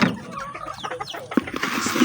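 Hens clucking close by, including a large hen, a few short low clucks scattered over a busy background of other fowl and farm noise.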